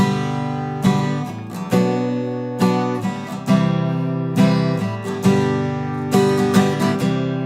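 Bright acoustic guitar strumming chords in a steady rhythm, with quick extra strums between the main beats, loud and close.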